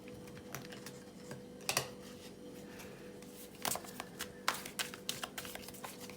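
Animal Tarot cards being shuffled and pulled, faint soft ruffles and light taps, with a couple of brief riffling bursts in a quiet room.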